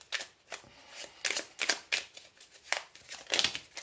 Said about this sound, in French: On va tirer une dernière petite carte.